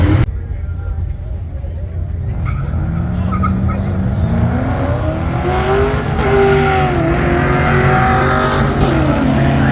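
Cars doing burnouts at the Duct Tape Drags drag race event, a loud, sustained engine roar with rising revs and tire noise, with people talking and cheering nearby throughout.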